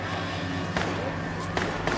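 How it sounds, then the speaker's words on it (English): A few sharp gunshot cracks ring out in the distance, brief and muffled against a steady outdoor background hum. "Yeah, that's gunshots."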